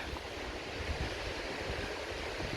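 Wind gusting steadily along a seaside walk in Corralejo, a broad continuous rush buffeting the microphone, fairly quiet and unbroken with no voices.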